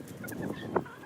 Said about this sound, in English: This is cool. There's chickens.